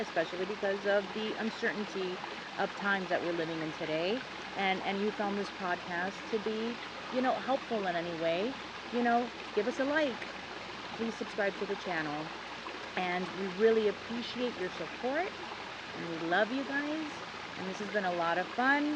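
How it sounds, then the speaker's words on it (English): Water runs steadily outdoors, a soft continuous rushing like a nearby stream, heard faintly under two people talking throughout. "I hope you guys can hear the water running in the background"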